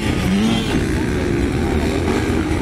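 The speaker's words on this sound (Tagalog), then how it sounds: "Sobrang lakas lang talaga ang motor ni John Paul Arangis." Racing motorcycle engine during an intermediate final race at South Upi, Maguindanao: a loud, sustained droning buzz of a revving engine, steady throughout with crowd and track noise blended in.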